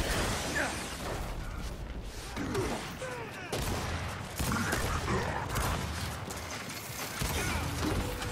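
Gunfire and clanking weapon mechanics in a Gears 5 multiplayer match on the Harbor map, dense, noisy bursts that run almost without a break and grow louder in spots.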